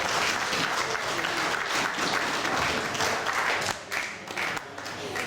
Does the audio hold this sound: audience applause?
yes